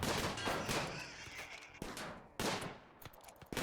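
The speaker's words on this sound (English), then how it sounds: "Left arm, gunshot, auto pistol." Auto pistol gunfire in the Rimworld video game, a string of sharp shots in irregular quick bursts, some closer and louder than others, with no speech over it.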